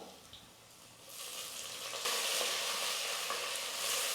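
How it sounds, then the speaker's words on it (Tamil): Garlic, a dried red chilli and curry leaves hit hot oil while making brinjal kuzhambu; a soft sizzle swells suddenly into a loud, bright, continuous crackle up close, with no talking. "இப்போ பூண்டும் ஒரு வரமிளகாவும் சேர்த்துக்கிறேன் எண்ணெயில் கருவேப்பிலை கொஞ்சம்"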